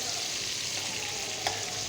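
Large shrimp fry in a pan with an even, continuous sizzle and a soft crackling bed of hiss, with no voices.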